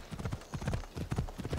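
Rhythmic clip-clop of horse hooves at a trot in the video game Assassin's Creed Odyssey, close and continuous, with dull repeated thuds in a quick galloping pattern.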